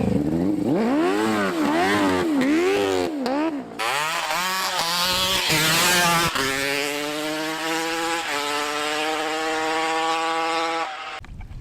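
A sketchy homebuilt three-wheeler with a welded-on muffler revs hard and close, its engine note rising and falling in repeated swoops, then climbing into a sustained high drone with a brief dip partway.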